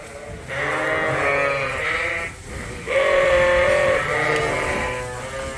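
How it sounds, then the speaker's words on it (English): Ewes bleat loudly and close by as they are let out to pasture on a spring sheep farm, two long overlapping calls separated by a short pause. "let out the ewes to pasture"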